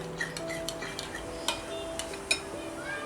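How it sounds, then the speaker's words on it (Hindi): A whisk beats a cream mixture for a vegetarian Russian salad, giving light, quick ticking clicks against the bowl with a few sharper taps, close and fairly quiet over a faint steady hum. "इनको फेंट लेंगे मिक्स करके।"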